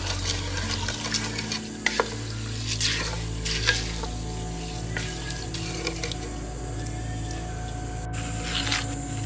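Glutinous rice is stirred and mixed by hand with salt and coconut milk for ketupat palas, giving a continuous moist, squishy churning with a few soft knocks and clicks, close and fairly quiet.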